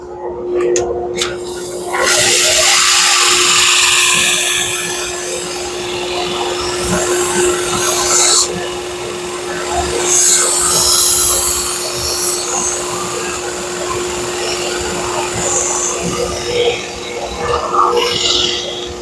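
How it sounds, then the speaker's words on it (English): A powered grinder whines steadily while regrinding the edge of a Hatsukokuro Kurogane Bunka knife, a loud continuous hum with shifting grinding hiss as the blade is worked against it, close by. "I'm just grinding where that secondary edge is, and I'm just going to be working that down to get rid of that convexity"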